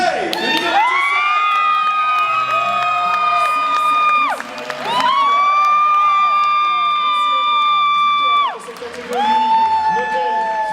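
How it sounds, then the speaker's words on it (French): An audience at a French-language event cheers, shouts and applauds for a category winner, the crowd noise mixed with loud sustained tonal sounds like music or drawn-out whoops that swell and break off twice. "Un tonnerre d'applaudissements pour la grande gagnante de cette catégorie"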